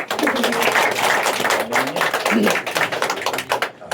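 Wedding guests at a ceremony for Joshua and Jemelyn break into dense, steady applause, many hands clapping close and loud for about four seconds before it thins at the end.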